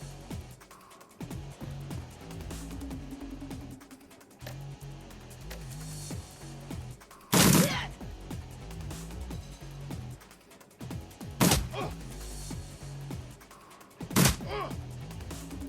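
Gunfire in the turn-based video game Shadowrun Returns: three sharp, separate shots crack out over a quiet game soundtrack, spaced a few seconds apart.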